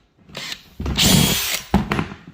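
A power drill bores holes in a plastic worm farm bin, running in short loud bursts of whirring and grinding with brief pauses between them.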